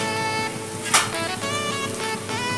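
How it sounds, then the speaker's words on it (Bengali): Onion and spices fry in a pan for a fish kalia, producing a steady crackling sizzle with a sharper burst of spattering about a second in, and a faint tonal hum running underneath. "পেঁয়াজটাকে এবার ভাজা ভাজা করে দেখো বন্ধুরা পেঁয়াজটা ভাজা হয়ে গেছে"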